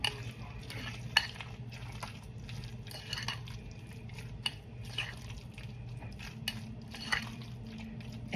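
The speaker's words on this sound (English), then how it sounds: "And then I'm going to stir it up." A spoon stirs pea salad in a bowl, producing close, soft wet scraping and sloshing with occasional sharp clinks against the dish, steady and continuous throughout.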